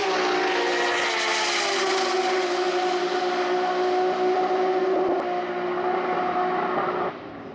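A Nissan GT-R drag car at a GT-R festival screams down the track at over 170 mph, a loud, steady high-revving engine note that holds, then fades and cuts off near the end.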